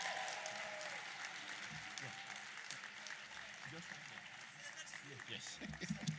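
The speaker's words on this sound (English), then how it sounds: "Please, can we give a round of applause again to Dr." Audience applause fills a lecture hall at an evening social justice lecture and award event, steady sustained clapping from a large crowd throughout, loud and close.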